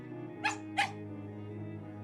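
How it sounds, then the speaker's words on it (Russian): A dog gives two sharp, ringing barks in quick succession, fairly close, over a steady low background hum. "Собака напомнила о себе звонким лаем."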